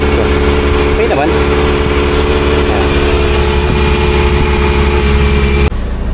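A Kawasaki ZX-4RR motorcycle fitted with a homemade silencer idles while warming up, a loud, close, steady mid-pitched engine drone with slight revving wobbles, cutting out abruptly near the end; someone talks faintly over it.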